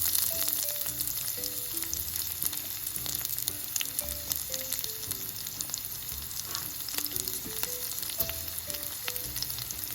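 Thinly sliced green chillies and onion fry in a pan for Andhra-style poha, with a steady close sizzle and soft stirring scrapes beneath light background music.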